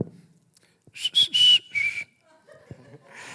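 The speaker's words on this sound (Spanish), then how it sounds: "Ese silbidito que" A person whistles a short, shrill series of notes, a few quick chirps followed by a sustained tone, heard close in a quiet space.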